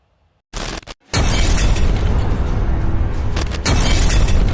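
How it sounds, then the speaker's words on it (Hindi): A powerful blast from a foiled terrorist bomb plot in Pulwama: a short sharp burst, a brief pause, then a sustained loud roaring rumble with debris-like crackle that stays heavy to the end, no voices. "एक भयानक धमाका जिसने बहुत बड़ी आतंकी साजिश को धुआं-धुआं कर दिया।"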